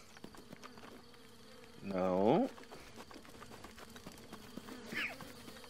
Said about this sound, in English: Oh my god, I can hit the bees.